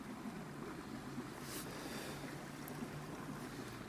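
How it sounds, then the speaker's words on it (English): A winter creek flows steadily beside a campsite, a constant close wash of rushing water with no voices over it. "Sound of the creek."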